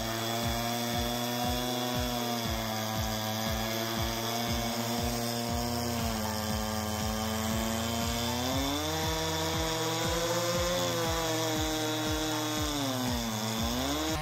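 A small but powerful chainsaw cuts through large logs, its engine droning steadily and loudly with the pitch dipping and rising as the chain bites the wood, no voices present.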